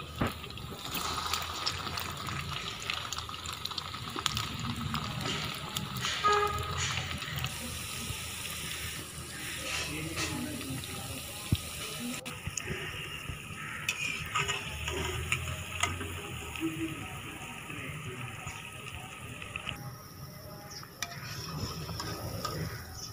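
Potato-stuffed bread rolls deep-frying in hot oil, a steady hiss and bubbling running throughout at close range with shifting intensity.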